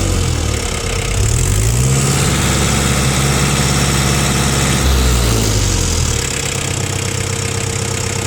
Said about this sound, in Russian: мотор у нас трехцилиндровый, достаточно большой, при этом работает прекрасно